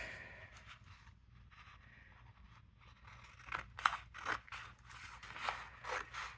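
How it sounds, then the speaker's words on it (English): Scissors cutting through craft paper for a milk carton gift box template, a series of quiet crisp snips and slides growing louder and more frequent in the second half, close and alone. "I'm going to cut my paper."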